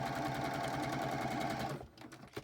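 A sewing machine runs a zigzag stitch through fabric for a snippet roll, a steady close mechanical whir for most of the clip before stopping abruptly, leaving faint handling noises.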